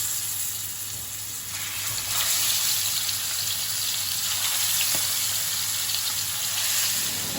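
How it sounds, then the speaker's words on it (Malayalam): Chicken pieces frying in hot olive oil, giving a steady close-up sizzle and crackle with a constant hiss that swells slightly midway and holds throughout. "എണ്ണ ചൂടായി നമുക്ക് ചിക്കൻ ഇട്ട് കൊടുക്കാം."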